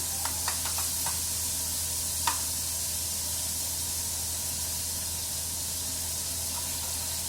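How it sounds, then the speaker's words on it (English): Pork sears in hot oil for a Khow Suey with spiced pork, giving a steady close hiss of frying that lasts throughout, with a few light clicks near the start. "Let the pork get seared a bit in the hot oil."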